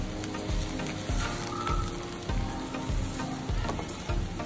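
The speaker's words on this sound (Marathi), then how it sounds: "शेंगदाण्याचं कूट सुद्धा यामध्ये छान मिक्स करून घ्यायचं आहे" Peanut powder stirred into a sushila mixture frying in a pan over a low flame, giving a steady close sizzle with regular rhythmic scraping strokes of the spoon roughly every half second.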